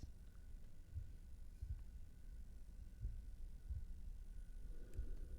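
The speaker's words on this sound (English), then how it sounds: "Ooh, I hear heartbeats." Heartbeats in a video game: a slow, soft, low thumping pulse repeating about once a second over a steady background hum, with no talking.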